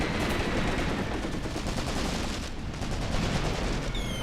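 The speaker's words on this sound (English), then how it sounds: "We're getting mortar fire, getting all sorts of nasty shit coming in here" Dense, continuous gunfire and booming mortar impacts roar together in the night battle of the video game Mirus Front, a loud, unbroken barrage with rapid shots layered over heavy low rumbling.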